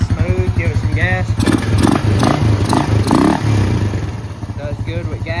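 Honda Rancher 350 ATV engine with the airbox lid off, revved in short bursts over a steady idle, giving a breathy intake roar close by while a person talks over the rises.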